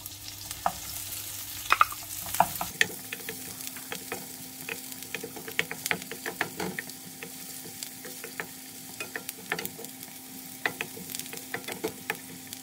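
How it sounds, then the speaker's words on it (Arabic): Onions fry in a little oil in a pan for Egyptian lentil soup, a low continuous sizzle broken by frequent sharp clicks and scrapes of stirring, close and without talk. "شوية زيت, وهبدأ ان انا انزل عليهم بالبصل."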